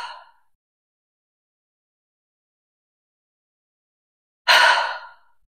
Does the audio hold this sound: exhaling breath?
yes